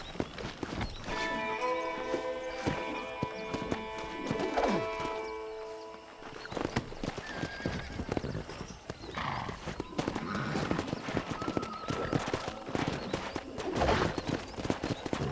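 Horse hooves clip-clop over a busy outdoor scene in Red Dead Redemption 2 (PC), with occasional neighing and a steady musical drone underneath.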